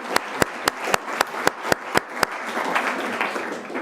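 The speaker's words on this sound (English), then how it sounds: "Let us welcome them with a big round of applause." Audience applause welcoming visiting students from Sophia at a public service talk: a few loud, spaced claps at first, swelling into a steady wash of clapping that fills the room.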